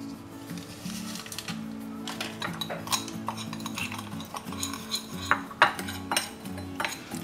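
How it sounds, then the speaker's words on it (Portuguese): A spoon mixes chimichurri, spicy paprika and a packet of sazon seasoning for coxão mole beef in a bowl. Steady, close scraping and scattered metallic clinks continue for several seconds, with a low background hum and no talk. "Nós vamos misturar tudo aqui"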